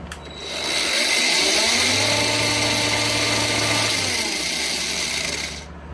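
A Bauer angle grinder from Harbor Freight, rated 7,000 RPM, spins up gradually to full speed, its whine rising and then holding steady and loud before it winds down at the end.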